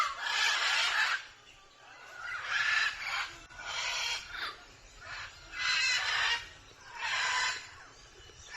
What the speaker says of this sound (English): I want y'all to note how loud the cockatoos are